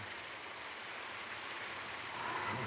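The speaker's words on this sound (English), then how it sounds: "Well, here's the rain." Rain falls in a steady, soft hiss that stays even and faint throughout, with no voices over it.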